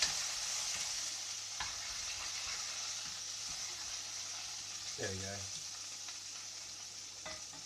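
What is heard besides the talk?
sausage sizzling while frying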